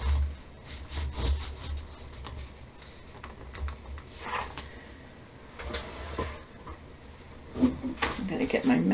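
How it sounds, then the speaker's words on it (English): Paper hinges on a Thanksgiving mini album are rubbed with a burnishing tool in short scraping strokes, close and moderately quiet, with pauses and some light handling noises near the end. "I'm going to push the hinges all one way and burnish."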